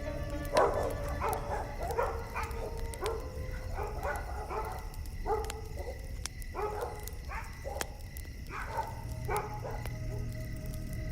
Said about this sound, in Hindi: मचान के नीचे एक कुत्ता बंधा हुआ था जो अंधेरे की ओर जोर जोर से भौंक रहा था।